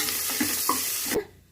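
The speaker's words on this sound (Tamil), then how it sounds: "அதை போட்டு நல்லா வதக்கிக்கலாம்." Sliced onions sautéing with fennel seeds in hot oil in a home kitchen pan, a steady broadband sizzle with a few soft stirring knocks, close and fairly loud, cutting off abruptly after about a second.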